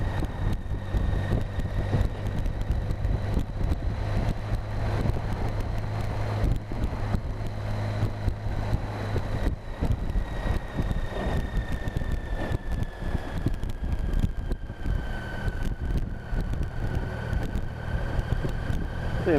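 A BMW K75 motorcycle cruises in top gear at about 25 mph, giving a steady, even engine drone mixed with continuous wind rush for the whole stretch.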